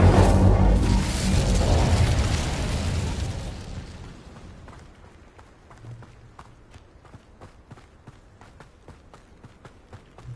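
In Hogwarts Legacy, casting the Incendio fire spell sets off a loud roaring whoosh that fades over several seconds into faint, regular footfall-like thuds and taps.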